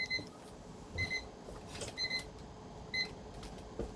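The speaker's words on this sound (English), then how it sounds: "Let me set this alarm off." An electronic alarm beeps in short repeated bursts, roughly once a second, over a low background hum.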